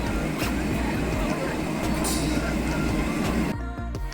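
A passenger train running, heard from inside as a loud, constant rumble and roar of wheels on rails, ending with a few rhythmic clacks.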